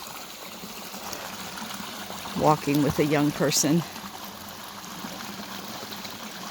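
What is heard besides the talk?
creek water flowing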